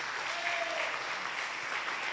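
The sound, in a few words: audience applause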